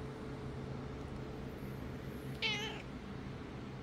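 A house cat meows once in the morning, a short, fairly close wavering call rising out of a steady low background hum.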